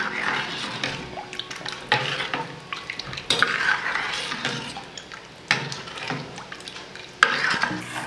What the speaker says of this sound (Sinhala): දැන් අපි මේක ලිපේ තියාගෙන හැඳි ගන්නවා.